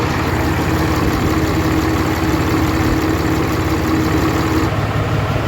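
A 2013 Cummins diesel engine, freshly back together after a cylinder head repair, idles steadily and loudly up close with a constant low rumble and no speech.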